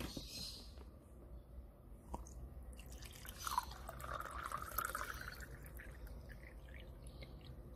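About 180 ml of water poured over Temanggung wine-process coffee in a Staresso Mirage brewer, outdoors at minus 5 degrees Celsius: a steady, close trickle and splash that rises in pitch as the vessel fills, with a few drips.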